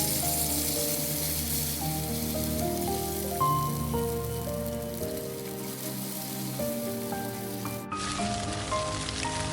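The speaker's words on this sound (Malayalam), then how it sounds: "നമുക്ക് ആ മുട്ട ഒന്ന് ചിക്കി പൊരിക്കണം." Egg being scrambled and fried in coconut oil gives a steady, close hiss of sizzling throughout, with background music playing underneath.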